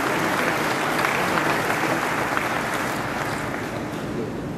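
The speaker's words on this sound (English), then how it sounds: "I think they deserve a huge round of applause." A big round of applause at a gallery inauguration, dense continuous clapping from a large audience, even and sustained throughout with no voices on top.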